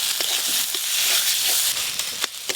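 Cumin, dried chilli paste, turmeric, chopped tomato and salt sizzling in hot oil for a pangas fish curry; a continuous close hissing fry broken by a few sharp crackles and faint stirring taps.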